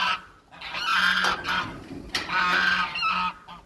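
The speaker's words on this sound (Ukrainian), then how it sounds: "Це молодий гусак так верещить, це капець." A young gander screeching in harsh, repeated honking cries, loud and nearby in a garden, in two long bursts with a short pause between.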